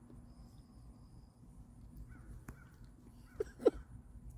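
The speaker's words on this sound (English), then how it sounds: "Crow, crow, crow, crow." A crow caws twice in quick succession near the end, sharp and fairly close, above a faint low background hum and an earlier soft click.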